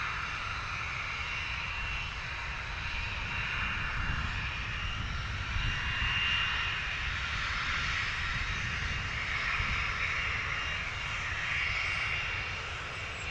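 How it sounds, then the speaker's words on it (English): A small Cessna Citation private jet lands at London Stansted Airport, giving a long, constant jet roar with a hissing whine that swells slightly mid-way and stays loud and near. "Fence line well and truly in the way for this arrival of the little pocket rocket"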